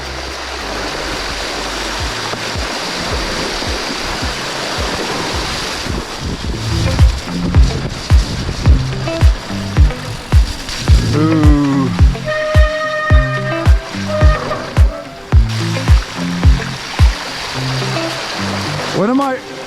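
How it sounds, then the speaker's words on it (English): A Yamaha YDX-MORO 07 electric mountain bike splashes through a shallow river on a trail, with steady water rushing, then a run of loud rhythmic splashes as the wheels churn through, while the rider exclaims and music plays. "This is extremely wet and the bike is handling it fine."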